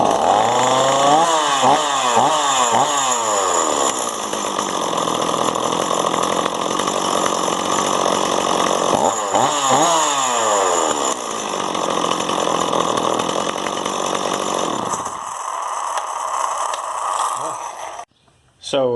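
A Stihl 026 chainsaw that has had trouble starting is pulled several times, fires up and runs loud with revving, then drops to a lower idle before cutting off abruptly.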